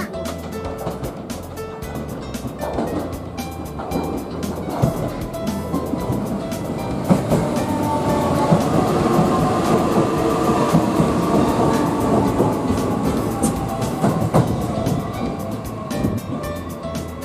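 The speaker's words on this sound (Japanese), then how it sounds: "電車が入ってきます。" A JR Sakurai Line train pulls into Tenri Station, its rumble and rail clatter building steadily from moderate to loud, with clicking wheels over joints dominating the platform ambience throughout.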